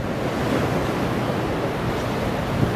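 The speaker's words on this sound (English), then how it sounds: "here we are at the edge of Milford Sound. And I can see, this is the Tasman Sea right here." Surf of the Tasman Sea breaking at the mouth of Milford Sound, a steady, dense wash of waves mixed with wind rumble that runs continuously with no talk.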